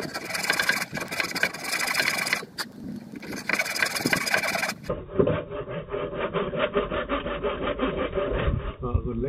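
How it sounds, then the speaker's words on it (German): Steady back-and-forth rasping of a hand saw ripping lengthwise through a wooden carport post, continuous and close, with no talking. "Längsschnitte mit so einer Säge sind echt elendig."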